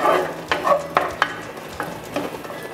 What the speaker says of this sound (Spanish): Aquí ya estamos cristalizando la cebolla